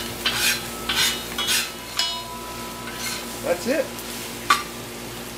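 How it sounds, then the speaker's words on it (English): Fried rice is stir-fried in a wok, with several scraping tosses of a metal utensil and a few clinks over a constant sizzle. Someone speaks briefly near the end. "doing the stir fry for the fried rice"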